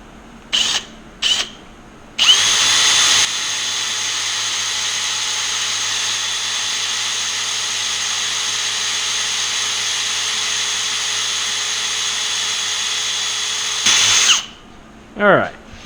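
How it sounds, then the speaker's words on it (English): A power drill whines steadily at high speed for a long stretch, biting into steel, with short revs at the start and a spin-down at the end. "especially if you're drilling something like steel"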